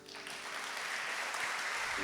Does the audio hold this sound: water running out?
no